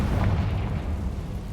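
A Confringo fire spell bursts in Hogwarts Legacy, a dense, rumbling low boom that holds heavy and steady for its whole short length, loud and close with no voice over it.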